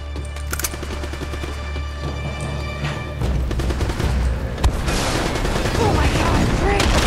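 Gunfire in Uncharted: Drake's Fortune, scattered shots and then a dense fusillade of rapid cracks under a low rumble, loud and close, with someone talking over part of it.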